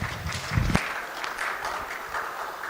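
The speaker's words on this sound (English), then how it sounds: "give huge round of applause to all the dignitaries on the dais" Applause at a corporate company secretaries conference for the dignitaries on a panel dais: moderate, steady clapping from a seated audience, with a few louder thumps near the start.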